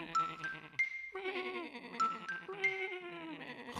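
Sheep bleat in a series of close, wavering cries that overlap one another in short repeated bursts.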